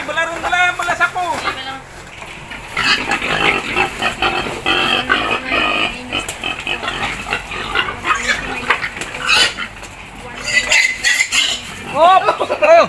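A fattening pig, caught for sale on a farm, squeals loudly in repeated piercing bursts, with shouting people and metallic clatter around it.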